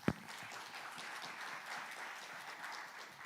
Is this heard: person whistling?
no